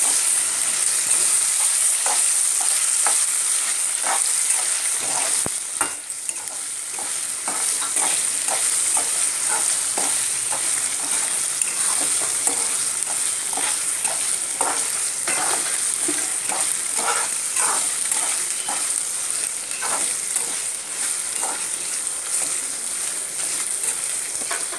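Tamarind rice seasoning frying in hot oil, a steady bright sizzle with repeated scraping clicks of a spoon stirring through the pan, close and continuous without talk.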